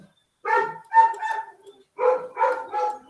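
Several dogs barking in bursts during a home maths lesson, close and fairly loud, with a short pause between two clusters of barks.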